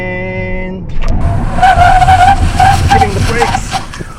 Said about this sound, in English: we're gonna do the same braking test now, but now it's wet